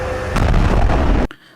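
An explosion from played video footage of seized material being blown up gives a loud, sustained roaring blast that cuts off abruptly.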